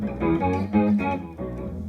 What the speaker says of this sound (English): Now here's the sub octave sound.